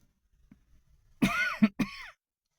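A single hoarse cough with a throat-clearing rasp, close and fairly loud, breaking into two harsh bursts after a near-silent pause.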